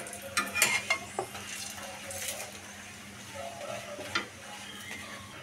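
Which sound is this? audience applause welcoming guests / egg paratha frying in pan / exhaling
egg paratha frying in pan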